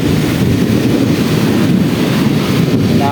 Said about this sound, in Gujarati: જોઈ લો કેવો પવન આવે.